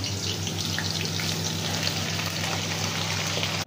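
Potatoes fry in plenty of hot oil, producing a steady dense sizzle and bubbling hiss close by, with a faint low hum underneath and no talking.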